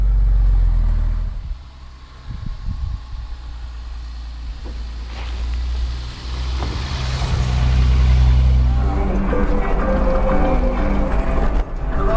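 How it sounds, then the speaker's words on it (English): A 1966 Mercedes 230SL inline-six engine idles with a deep rumble, then revs up and holds a louder, rising drone before settling back. "I love the sound of these old Mercedes inline sixes."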